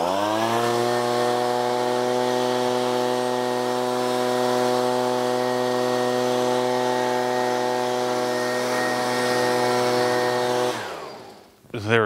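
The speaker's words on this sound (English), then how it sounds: "So I'm going to blow off the car with a leaf blower" Leaf blower drying a freshly washed Porsche GT3 after an Optimum car soap wash, a loud, steady motor whine running continuously for about eleven seconds before cutting off abruptly near the end.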